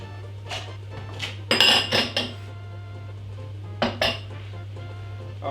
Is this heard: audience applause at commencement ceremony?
no